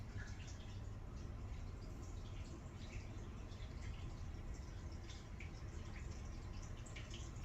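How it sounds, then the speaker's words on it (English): Steady water runs continuously from a tap in the background, a soft, even rushing with faint drips, with no voices. "You hear the water just running in the background too."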